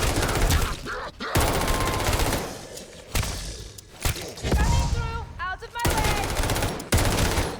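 Bursts of automatic gunfire from Call of Duty Vanguard Zombies rattle loudly in rapid sequences, broken by short pauses, with someone talking over the shooting.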